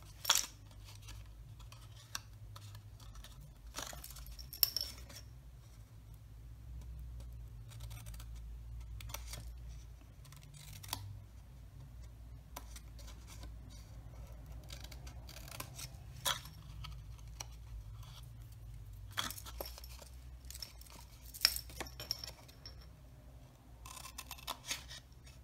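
Scissors cut and notch craft paper for a Stampin' Up! card project, giving scattered sharp snips and crisp paper crackles over a low background hum, close and fairly quiet.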